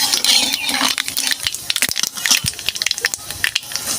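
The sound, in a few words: nigella seeds (kalo jeere) tempering in hot oil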